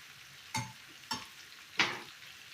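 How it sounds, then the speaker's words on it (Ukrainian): Pork ribs frying with lard in a pan are stirred in three separate scraping, sizzling bursts, each rising sharply then fading over a quiet background hiss. "І все тут перемішую."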